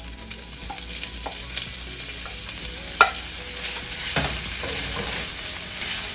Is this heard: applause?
no